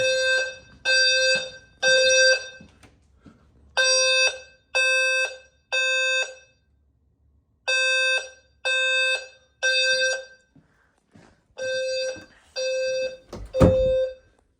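A home fire alarm system sounding loud and clear indoors, repeating bursts of three harsh electronic tones separated by short pauses, with a thump near the end.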